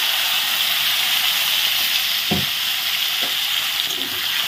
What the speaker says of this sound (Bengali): মুখি আর আলুগুলো এই একই তেলে ভেজে নেব।